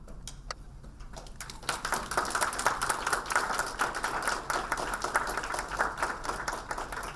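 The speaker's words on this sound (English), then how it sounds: "I ask that we stand and give them a hand clap" A standing audience at an EASF Day defence ceremony in Kenya claps by hand. Scattered claps build after a sparse start into dense, sustained applause that carries on for several seconds.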